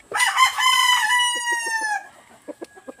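A rooster crows nearby, one long loud call that trails off, followed by a few soft clucks.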